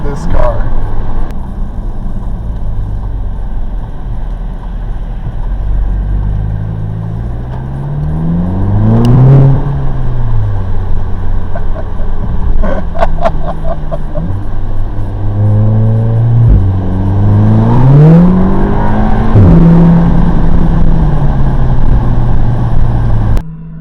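A car driving on a winter road, its engine repeatedly accelerating through rising gear pulls and shifts, close and steady over about twenty seconds, with someone talking over it.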